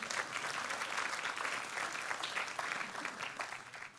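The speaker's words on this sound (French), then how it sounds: "donc vous pouvez vous applaudir pour ça," An audience at a TEDx talk in Guadeloupe gives dense, sustained applause, many hands clapping evenly at a moderate level throughout.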